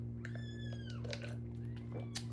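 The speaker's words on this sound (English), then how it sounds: "Y'all hear them in the background squirming. They squealing." Kittens squeal and squirm in the background, giving a few short, high mewing cries over a steady low hum.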